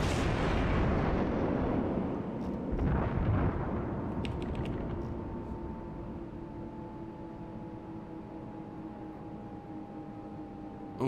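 German cruiser Admiral Hipper's main guns fire in World of Warships, a loud booming salvo that rumbles and rolls off over several seconds with a lingering low ship drone beneath.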